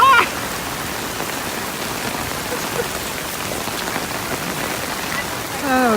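Steady heavy rain pours down outdoors in an even, close wash of patter, with faint voice-like sounds at the start and end.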